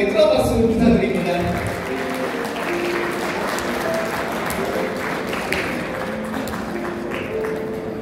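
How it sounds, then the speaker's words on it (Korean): Applause for the bride and groom at a wedding ceremony in a Navy hotel banquet hall, a dense, steady round of clapping from the guests lasting several seconds, with voices and music faintly mixed beneath. "다시 한번 두 사람에게 큰 박수 부탁드립니다"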